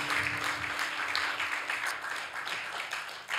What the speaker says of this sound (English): Give another round of applause for Destiny Muhammad and devorah Major.